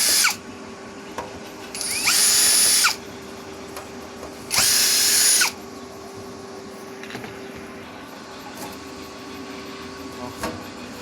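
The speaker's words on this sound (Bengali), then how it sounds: "ততক্ষণ আমরা স্ক্রুগুলো খুলে নিচ্ছি" A handheld power screwdriver whirs in two sustained bursts, loud and close, while removing screws from a Delta P9001 amplifier, with faint clicks and handling noise between runs over a steady low electrical hum.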